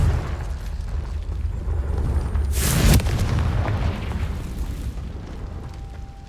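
Confringo fire spell going off in the Hogwarts Legacy video game as one sharp, heavy blast partway through, set against a constant loud rumble of game background sound.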